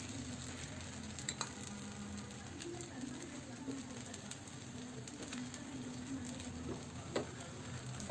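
Fenugreek-leaf paratha frying in oil on a hot tawa gives a steady, soft sizzle with faint crackles and a few small pops, continuous throughout with no talking.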